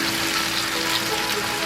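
Tomatoes tipped into hot onion-infused oil, setting off a steady, loud hissing sizzle that runs unbroken from start to finish with no voices.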